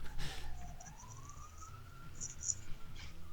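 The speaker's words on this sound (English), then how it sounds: "Oh, the sirens?" A faint, distant siren slowly rises in pitch beneath low background noise and scattered soft clicks.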